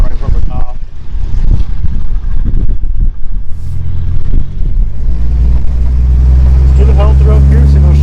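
A 1963 Ford Falcon Futura hardtop with worn-out tires, driven for the first time in 18 years, rumbles along with a deep, steady engine drone that grows heavier partway through, while people talk loudly inside the car.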